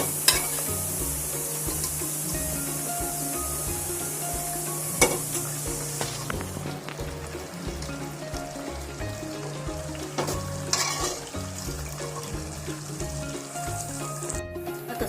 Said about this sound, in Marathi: मसाला आता ही शिजवलेली मटकी मी याच्यामध्ये टाकणार आहे